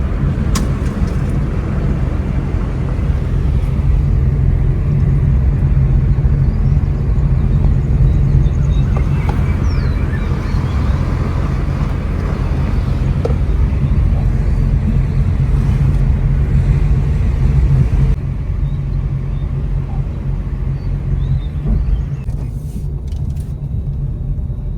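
A car sits with its engine idling at a roadside stop, a steady low rumble running throughout at close range, dropping slightly in level near the end.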